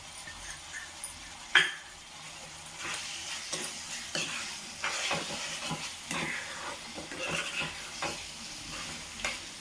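Raw prawn curry with masala sizzles and fries in a pan, a steady close hiss broken by scraping stirs and occasional clatters of the spoon.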